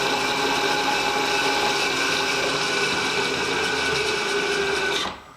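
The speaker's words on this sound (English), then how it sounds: "And let's drill a hole." Steady, loud power-tool whine from a drill boring a hole, with a constant high buzz, running for several seconds before cutting off abruptly near the end.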